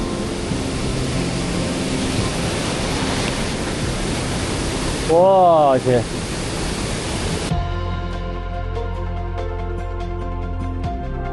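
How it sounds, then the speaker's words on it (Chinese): A waterfall roaring in a canyon, loud broadband rushing water that fills the scene, with a brief exclaimed voice partway through before the roar drops into a quieter tonal section. "相当于水从这个位置直接倾泻下去了，顺着这个沟倾泻下去，然后形成一个大的瀑布"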